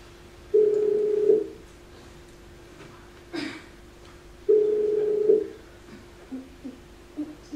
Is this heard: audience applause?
no